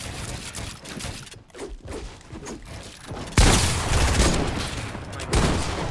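Gunfire in Fortnite, scattered close shots early, then a dense loud burst of rapid fire from the middle of the clip with another sharp volley near the end.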